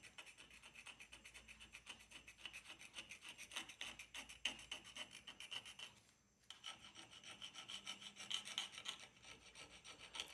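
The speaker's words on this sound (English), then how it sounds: "I'm going to take my X-Acto knife, and what I do, even though I've cleaned all this, I'm going to go here and I'm going to scratch it." An X-Acto knife blade scratches a cleaned metal surface on a 1967 Triumph TR6 sump vent before soldering, a steady close rasping scrape repeated in quick strokes for about ten seconds with one brief pause.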